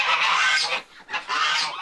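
Geese on a farm honk loudly and close by, a harsh, raspy clamor in two dense bursts separated by a brief lull.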